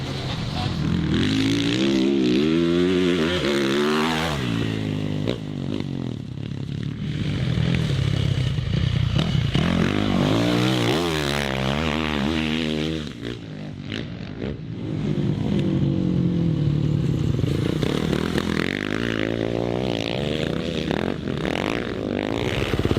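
A 2022 450cc motocross bike is ridden hard, its engine repeatedly revving up and down through the gears, loud and close, with clattering and scraping between the pulls.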